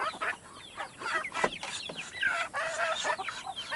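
Laying hens in a Bicol backyard coop cluck and squawk in repeated short bursts, several birds close by with overlapping calls and no speech.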